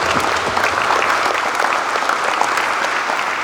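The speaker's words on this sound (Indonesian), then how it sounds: "Boleh tepuk tangan dulu untuk para peserta." An audience at a PB Djarum badminton training camp applauds its participants, a dense, lively burst of many hands clapping together at close range.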